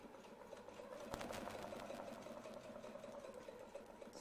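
Domestic sewing machine quilting along a template, a steady mechanical whirr with a faint rhythmic needle chatter held at an even level throughout, running alone with no talk.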